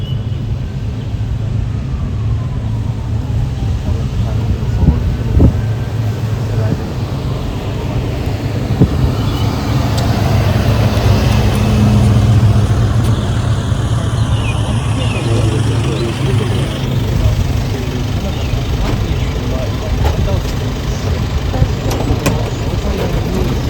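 A motorcade car pulls up outside the White House, its engine idling and rumbling steadily at fairly close range with low traffic hum throughout, while people talk nearby.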